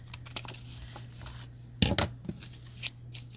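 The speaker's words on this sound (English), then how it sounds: "And I'm going to cut this corner." Scissors snip paper while a double-pocket tag booklet is trimmed, a few sharp close cuts with a louder pair of crisp snips in the middle and some light handling rustle in between.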